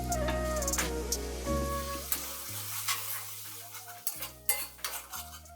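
Masala spices frying and stirred in a pan for a Bengali-style katla fish curry, heard as repeated close scraping and clinking of a spoon against the pan under a steady sizzle, with background music playing throughout.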